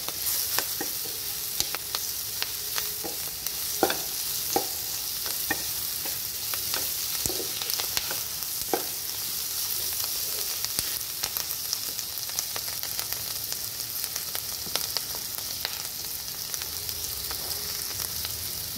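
Boiled potato slices and capsicum sauté in a pan with a continuous, moderately quiet sizzle, and frequent scrapes and taps of a stirring spoon sound throughout.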